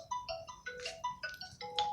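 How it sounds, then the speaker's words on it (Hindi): A mobile phone ringtone plays a bright, stepped electronic melody of repeated short tones, moderately loud and close, with no talking over it, interrupting a Hindi literature lecture. "ये फोन आते रहते हैं दोस्तों, इसको भी बंद करना पड़ेगा थोड़ी देर के लिए।"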